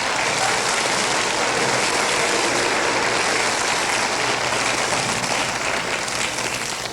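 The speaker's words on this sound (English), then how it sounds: "they deserve a big round of applause" A school bands night audience gives a sustained round of applause, a thick, even roar of many hands clapping that holds steady throughout, with no voices standing out.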